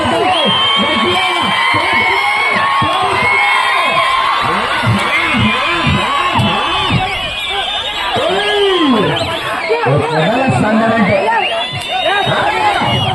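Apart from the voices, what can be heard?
large crowd shouting and cheering at bull cart race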